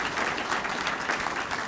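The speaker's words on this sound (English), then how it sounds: "let's give her a round of applause" Audience applause at a mayoral speaking event, steady dense clapping from a seated crowd, brief and even in loudness with no talk over it.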